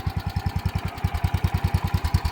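A 12-horsepower engine on a 1977 Wheel Horse B-100 garden tractor, fitted with a mismatched carburetor, idles close up with a fast, even, thumping beat and no voices.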